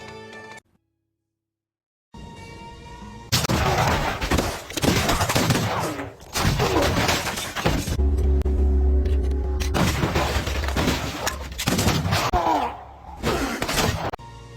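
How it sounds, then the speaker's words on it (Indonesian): A burst of heavy gunfire rings out after a brief silence, loud rapid shots in rough volleys with short pauses, like a chaotic shootout. "Ketika salah satu penjahat mengangkat pistol, terjadilah baku tembak"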